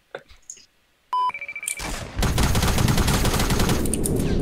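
Gunshots from a Fortnite match: a sharp burst of rapid shots followed by a long, loud, sustained stretch of gunfire and noise. Brief talk comes before the shooting.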